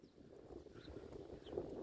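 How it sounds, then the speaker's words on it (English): Wind buffets the microphone outdoors in a low, steady rumble that swells slightly toward the end. "Ooh, it's windy."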